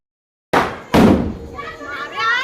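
A firecracker bursting during Diwali, two sharp close bangs about half a second apart, the second heavier with a rumbling tail, followed by a voice talking.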